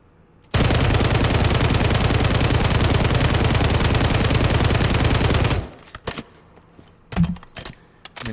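An SCG rifle with no attachments fires a long, loud, unbroken automatic burst on a video game firing range, then cuts off, leaving a few faint clicks.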